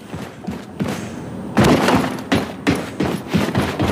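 Gunfire at a shooting range in the video game Wolfenstein 2: The New Colossus, a run of sharp, loud reports at a steady, uneven pace, with quieter thuds at the start before heavier shots begin.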